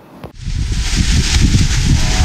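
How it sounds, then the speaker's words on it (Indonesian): Strong wind in the rain buffets the top of a lookout tower above mangrove forest by the sea on Karimun Jawa, a loud steady roar with heavy low rumble from gusts hitting the microphone, no talking. "Angin begitu besar bertiup di atas menara"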